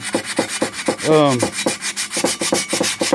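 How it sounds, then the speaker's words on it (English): Rapid, rhythmic rasping of 80-grit sandpaper scrubbing back and forth across rusty metal, close and fairly loud, with a brief squeak partway through. "I'm just using some 80 grit sandpaper"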